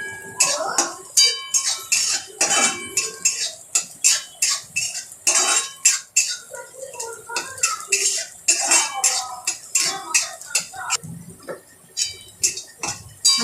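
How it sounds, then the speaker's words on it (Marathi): Onion stirred in a pan for a halwa fish curry, with a rapid run of sharp metal scrapes and clinks as a spoon works against the pan, close and fairly loud and continuing throughout. "आपण चांगला कांदा 2 मिनिटं परतून घेऊया"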